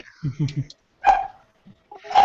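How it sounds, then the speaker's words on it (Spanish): A dog barking during a talk, a few sharp barks spread between short bits of speech, close and fairly loud. "Beto, que ese perro"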